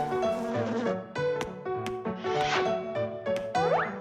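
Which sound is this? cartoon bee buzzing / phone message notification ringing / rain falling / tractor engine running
cartoon bee buzzing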